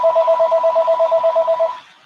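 A telephone rings across a room in short, rapid electronic pulses, a clear repeating trill for nearly two seconds before it cuts off, with no talking.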